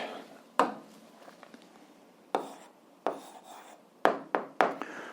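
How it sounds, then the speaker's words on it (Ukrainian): Handwriting an algebra answer: a few sharp, scratchy strokes on a surface separated by quiet pauses, then a quicker cluster of strokes near the end, close and fairly faint. "а зараз записуємо відповідь"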